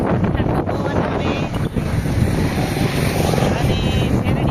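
Cool wind blows steadily across the microphone by a busy roadside, a loud continuous rushing roar with faint traffic beneath it.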